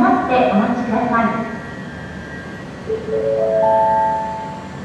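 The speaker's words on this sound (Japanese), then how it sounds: "まもなく2番線に列車が入ります。" A JR 701 series train, a mixed Akita and Sendai formation, pulls into platform 2 at Yokote Station, its sustained tonal hum and rising motor whine building steadily under a platform announcement voice.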